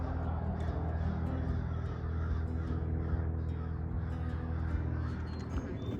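Crows cawing outdoors along a nature trail at a preserve, a few harsh calls rising over a steady low background hum, moderately distant with no talking.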